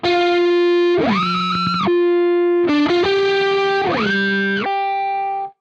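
Electric guitar played through a TC Electronic Brainwaves pitch shifter pedal with an octave effect, loud sustained notes that bend and jump between pitches, with layered shifted tones gliding up and down before ringing out.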